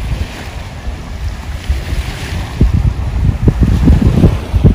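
Sea waves wash onto an American beach with strong wind buffeting the microphone, a continuous roar that swells louder toward the end.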